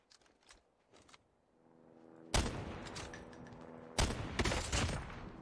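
Call of Duty gunfire starts with a few faint distant shots, then two loud close bursts of rapid fire land a couple of seconds apart, with no talking.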